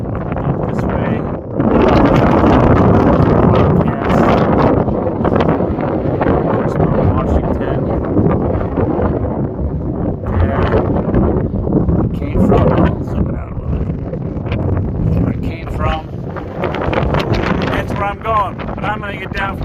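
Strong wind buffets the microphone in loud, rumbling gusts that rise and fall throughout at a high-elevation spot on the Appalachian Trail, with a voice faintly audible beneath the roar.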